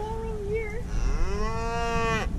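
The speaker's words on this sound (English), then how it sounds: "Moo to you too." Cattle moo on a farm pasture ahead of a November forage harvest: one cow gives a short call, then a longer, loud drawn-out moo follows close by, with no talking over it.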